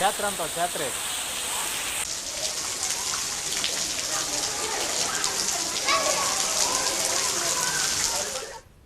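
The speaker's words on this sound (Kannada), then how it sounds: "ಮುಂಜಾನೆಯಿಂದ ನಿರಂತರವಾಗಿ ಮಳೆ ಸುರಿತಾನೆ ಇದೆ" Heavy rain pours continuously during a downpour in Karnataka, a dense steady roar of drops hitting surfaces, loud and unbroken until it fades out at the very end, with a voice speaking over it.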